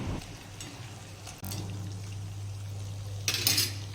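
Chaat papdi crisps fry in oil over a medium gas flame, giving a steady, close sizzle with a low hum beneath it and a brief clatter of utensils near the end.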